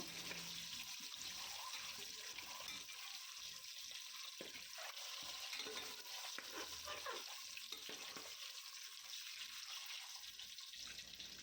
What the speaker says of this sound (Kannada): ಸೊ ಇದನ್ನು ನೀಟಾಗಿ ಎಣ್ಣೆಯಲ್ಲಿ ಫ್ರೈ ಮಾಡ್ಕೋಬೇಕು ಮೊದಲು ಮೊಟ್ಟೆನ